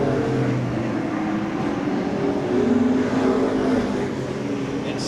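Several race cars in a weekly short-track event at Seekonk Speedway roar around the oval together, their engines forming a loud, steady, continuous drone with slight rises in pitch as they power through, no speech over it.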